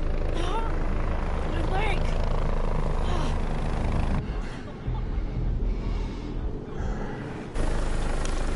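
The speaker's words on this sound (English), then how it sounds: "Get to the chopper now." A helicopter in The Division video game gives off a loud, continuous rotor roar mixed with other game sounds, with short dips in level partway through.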